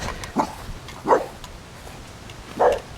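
A dog barks three times, single sharp barks spaced apart, over a quiet outdoor background.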